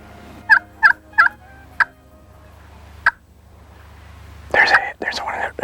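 A wild turkey gobbles near its roost in a string of four sharp, loud calls in quick succession, then a lone gobble after a pause. Hushed voices and rustling follow in the close outdoor quiet.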